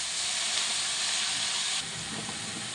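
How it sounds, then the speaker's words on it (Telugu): Amaranth leaves tossed into a pan with green chilli paste, a loud, steady steamy sizzle that drops slightly partway, with faint stirring scrapes near the end. "ఒకసారి కలుపుకుందాము."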